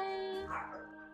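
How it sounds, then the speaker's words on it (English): Dog indoors letting out a single drawn-out bark that bends into a whine, fairly close, alone without talk. "I do have a lot of dogs, so I'm sorry you just heard them barking."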